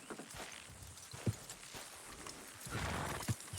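Horses in Red Dead Redemption 2: quiet, scattered hoof clip-clops and shuffling on the ground, with a brief snort, over a low ambient background.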